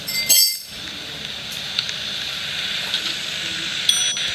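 Drinking glasses chink against each other in a home kitchen, a brief bright clink near the start over a steady hiss of background noise, with a couple of faint later taps.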